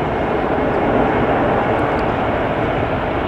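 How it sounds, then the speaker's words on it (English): A jet airliner on a LAX runway roars steadily at takeoff, a broad continuous engine rush at moderate distance that stays even in loudness, with no talk over it. "we have a plane lined up over there to take off."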